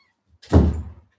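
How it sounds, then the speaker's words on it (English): A door is pushed shut in a room where puppies are playing, giving a single solid thunk with a short rumbling decay, close by and alone with no talk over it. "let me shut this door"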